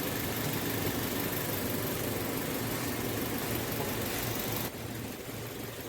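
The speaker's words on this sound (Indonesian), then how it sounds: "Mari kita cek pada mesin Honda Brio ini." Steady idle of a Honda Brio petrol engine at normal RPM around 795, a continuous broadband hum recorded close up with no talk, dropping slightly in level near the end.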